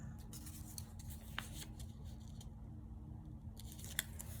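Paper being snipped with scissors for a junk journal stained-glass collage, heard as a few quiet, close cuts over a steady background hum.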